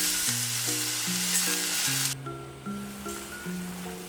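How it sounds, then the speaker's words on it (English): Tomatoes simmering in a pan until they melt into liquid, a bright steady sizzle and hiss up close under a sustained musical backing, the hiss dropping away partway through. "The tomatoes simmer until they melt into liquid"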